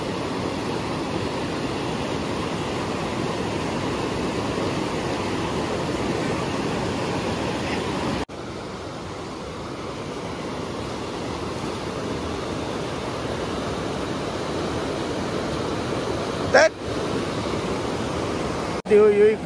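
Dudhe river, a stream where people are casting fishing nets, flows as a steady broadband rush across the whole stretch, quieter after the first third, with a couple of brief knocks near the end.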